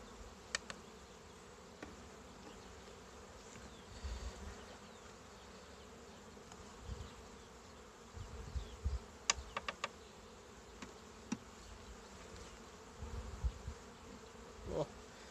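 Steady, faint buzzing of many honeybees hovering close by at an open hive during a spring inspection, a continuous hum with occasional louder passes and small knocks.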